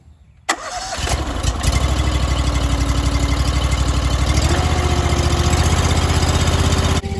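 The engine of a Japa 365 Pro firewood processor cranks and catches with a sharp start, then settles into a steady, loud, close idle with a throbbing rhythm.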